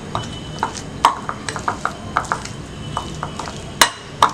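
Spoon stirring and scraping an egg yolk stuffing mixture in a bowl, a steady series of light clinking taps and scrapes, close and fairly loud.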